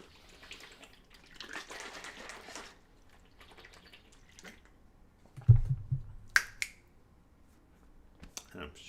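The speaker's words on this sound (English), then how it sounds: "I'm shaking the water to just get the salt mix right" Salted water is shaken in a bottle, giving a few sloshing, splashy bursts near the mic, followed by a louder knock and some quieter trickling movement.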